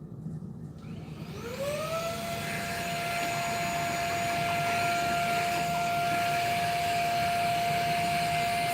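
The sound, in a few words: vacuum cleaner cleaning out a serger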